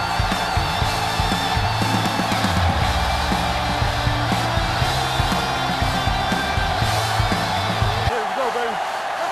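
Steady stadium crowd roar in an American football video game, a dense continuous wash of cheering with low rumbling tones underneath, loud and unbroken until it drops away near the end.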